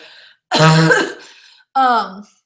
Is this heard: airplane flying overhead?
no